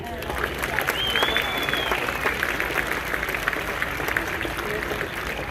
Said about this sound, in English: So a massive round of applause for Leanne.